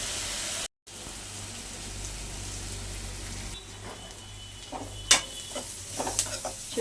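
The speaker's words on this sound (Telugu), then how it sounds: "చూడండి, ఇలా మధ్యలో కొంచెం కలుపుకుంటూ ఉండాలి" Onions and chillies fry in oil in a pan while being stirred, giving a soft, steady sizzle with a few sharper scrapes and clinks of the spoon near the end.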